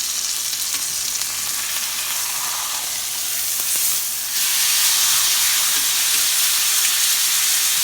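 A steak searing over close to high heat in a pan after being flipped gives a loud, steady, hissing sizzle that continues without a break and grows slightly louder partway through. No one speaks.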